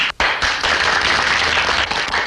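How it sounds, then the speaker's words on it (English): Loud, dense applause from an audience, a steady roar of many hands clapping that starts abruptly and continues throughout. "another round of applause for Private Gillis"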